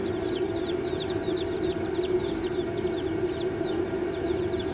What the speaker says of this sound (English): and the chicks are tiny.